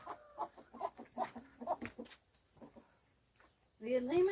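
A rooster crows loudly and close by near the end, following a stretch of clucking from chickens and someone talking.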